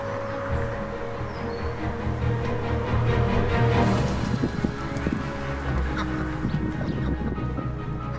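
Young ducks join the main homestead flock outdoors, with a dense, continuous chorus of honks and quacks from several fowl under light wind, nearby and fairly loud.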